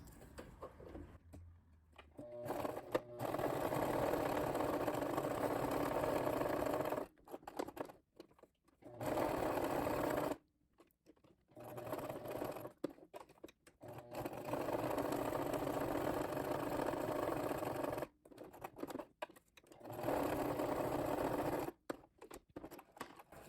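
An old sewing machine stitches in several bursts of fast, rattling whir, stopping and starting with short quiet pauses between runs.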